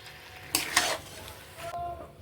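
Meat and capsicum fry in a pan for a spicy meat curry, with two sharp stirring scrapes followed by a soft sizzle, close and fairly quiet.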